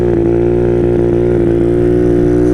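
A loud, close Honda Ruckus scooter engine runs at a steady, throbbing pace throughout, with a slight wavering but no clear revving and no speech.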